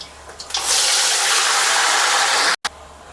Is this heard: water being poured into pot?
yes